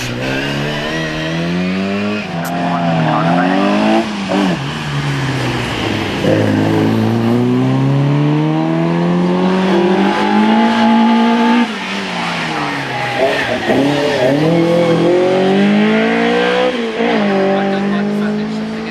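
Minis, Midgets and Vauxhall Novas race up the course at the MG hill climb at Wiscombe, engines revving hard through repeated gear changes and passing close and loud, with tyre squeal and a voice talking over the cars.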